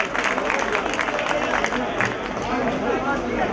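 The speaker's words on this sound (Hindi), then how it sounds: "एक बार जोरदार तालियों के साथ अकील नुमानी साहब का स्वागत" Crowd at a mushaira poetry gathering breaking into steady, dense applause that fills the whole stretch, with clapping and scattered murmurs blended into a continuous roar.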